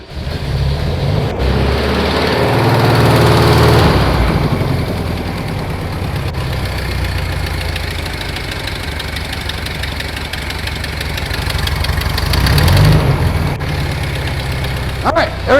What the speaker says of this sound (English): I have it just idling away in the background